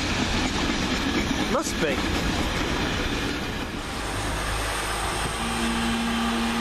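A London Midland Cross City service, unit 323222, pulls out of Longbridge station with a continuous rumble and wheel noise, a brief squeal, and a rising motor hum near the end. A voice speaks briefly over it.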